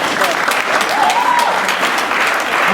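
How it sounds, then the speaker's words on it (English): A room full of people at a startup weekend gives a burst of dense, sustained clapping for a pitch presentation, with voices faintly mixed in. "round of applause"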